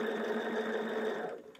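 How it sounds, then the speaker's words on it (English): A sewing machine stitches fabric for a pincushion, a close steady whirring buzz that runs evenly and then slows and fades at the end. "I also like to sew on the line into my seam allowance versus in my triangle"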